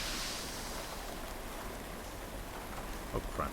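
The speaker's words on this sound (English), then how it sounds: "can you hear the rain?" Rain falls steadily in the video game Legend of Grimrock 2, a soft, even hiss of drops that runs throughout, with a few faint knocks near the end.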